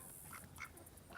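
Ducks quack on a small farm, a few short calls spaced through a brief, fairly quiet stretch with steady background noise.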